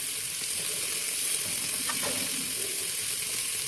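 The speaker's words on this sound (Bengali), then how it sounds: "মশলাটাকে একটু নেড়ে নিয়ে এর সাথে মিশিয়ে দেবো।" Spice paste with coriander powder, sugar, salt and water sizzling and being stirred in a frying pan for sish palong chachchori, a steady close hiss with a brief scrape of the spatula midway.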